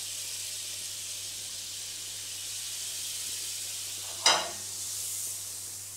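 Butter and sugar sizzle softly with apples in a hot pan for caramelised apples, a steady faint frying hiss with one brief louder crackle of added food partway through.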